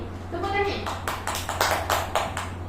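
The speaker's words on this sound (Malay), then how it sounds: "ya, tepuk tangan" A group of children clap their hands in a school classroom, a string of sharp, uneven claps following a brief voice at the start, close and fairly loud.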